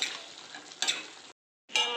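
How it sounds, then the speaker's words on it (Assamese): A spoon scrapes and stirs mushroom and potato curry in a pan, producing short bursts of scraping and soft sizzling separated by a brief pause, close and fairly quiet. "আৰু ভালদৰে মিক্স কৰি দিম"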